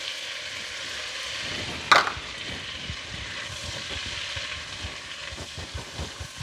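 Flour stirred into melted butter in a pan to make a roux, giving a soft, steady sizzle with gentle stirring scrapes and one sharp clink early on.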